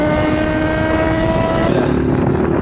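Motorcycles speed past at nearly 200 km/h, a loud steady engine drone with a sustained high whine that shifts pitch as one passes, with voices heard over it.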